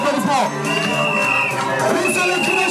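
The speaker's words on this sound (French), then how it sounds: "c'est le cri de joie, le cri de joie, le cri de joie." Crowd at a customary wedding raising cries of joy, a dense lively mix of shouts, high ululating voices and chatter, loud and close throughout.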